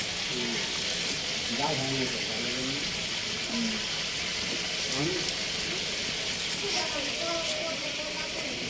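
Chili and meat frying in a pan for a wedding-style meat curry, a steady close sizzle and crackle throughout, with a voice talking over the cooking.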